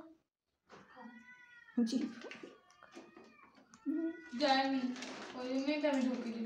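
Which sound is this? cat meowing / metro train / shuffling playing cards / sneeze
cat meowing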